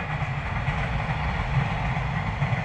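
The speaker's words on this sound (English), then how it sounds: "It's a long train." A long train passes on the railway with a steady, loud rolling rumble and faint rhythmic wheel clatter.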